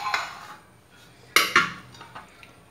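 Chopped coriander, onion, green chili and gram flour get mixed in a bowl: a few light spoon clinks and scrapes, two sharper knocks in the middle, then softer taps, all close with no talk.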